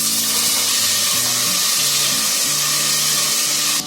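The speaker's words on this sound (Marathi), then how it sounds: "आता त्याच्यामध्ये आहे ना ही बटाटी टाकते पहिली, कारण बटाटी आपल्याला थोडी फ्राय करून घ्यायची आहे." Potatoes tipped into hot oil already sizzling with cumin, a steady broadband frying hiss that holds evenly throughout, with faint clinks and stirring underneath and no talk.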